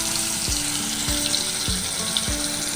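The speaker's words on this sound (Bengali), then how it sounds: "এখন আমি একটা মাছ দিয়ে দিচ্ছি" Phali fish frying in hot oil in a pan makes a continuous close sizzle, with a few soft regular knocks as it cooks.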